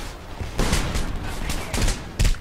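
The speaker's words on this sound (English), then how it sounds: "How the hell is he shooting?" Bursts of gunfire in the video game Homefront, loud clustered volleys of shots that come in several rapid waves with short gaps between them.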